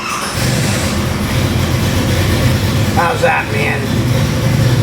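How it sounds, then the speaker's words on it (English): A Chevy small-block 350 crate engine, 420 horsepower, custom painted and set up for a dyno pull, idling steadily with a loud, continuous low rumble while someone speaks over it. "Fires right up, idle's beautiful."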